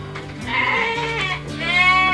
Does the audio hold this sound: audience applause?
no